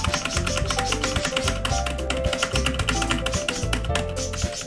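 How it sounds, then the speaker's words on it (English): Clicky mechanical keyboard typing during a speedrun of Doki Doki Literature Club, a steady stream of close taps over constant game music, with no talk. "I like to use a mechanical keyboard."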